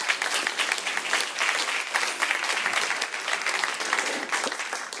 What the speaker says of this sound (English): A round of applause for Arushi, please.